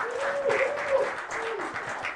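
Audience applause at a live comedy show, a steady wash of clapping held at an even level throughout, with some voices and a tonal sound running under it in the middle.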